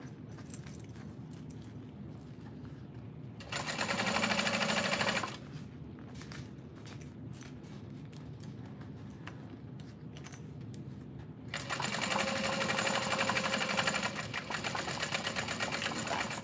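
A sewing machine stitches the lining of a bowler bag in two loud, steady bursts of fast mechanical whirring, each lasting a couple of seconds, separated by quieter handling noise and room tone.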